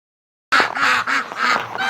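Ducks quack outdoors in bitter winter cold, a run of loud, close, raspy calls repeating in quick pulses with no talking.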